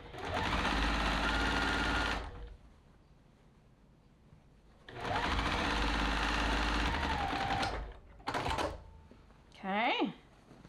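Sewing machine stitching a rag quilt border, two long runs of fast, steady mechanical whirring separated by a quiet pause, followed by a short burst of stitching and a brief voice near the end.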